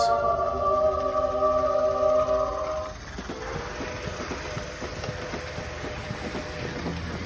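A Tyco Alco C 630 model diesel locomotive runs along its toy track, a steady mechanical whir and faint rhythmic clicking of wheels on rail joints following a brief louder tonal hum at the start.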